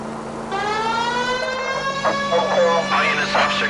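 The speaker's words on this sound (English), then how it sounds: "People might move out of the way quicker if you use the siren." A rising and falling police car siren from the video game L.A. Noire wails steadily and loudly throughout, with in-game voices talking over it.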